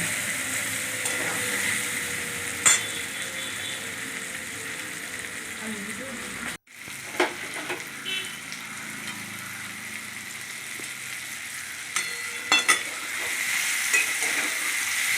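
Bori, small sun-dried lentil dumplings, sizzle steadily in hot oil in a pan, with occasional sharp scrapes and knocks of a spatula stirring and turning them, and one brief break in the sound partway through.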